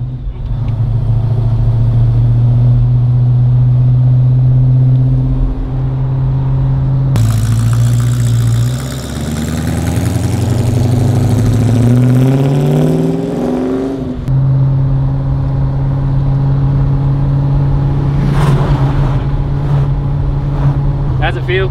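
A car engine hums steadily as the vehicle drives, the pitch rising and falling with gear changes, loud and close throughout.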